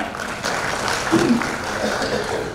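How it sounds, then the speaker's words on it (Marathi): An audience at a lecture event breaks into sustained applause for Tatya, a dense, even wash of clapping that fills the whole short moment without a break. "तर एकदा तात्यांसाठी सुद्धा जोरदार टाळ्या"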